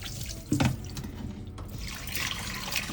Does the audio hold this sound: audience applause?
no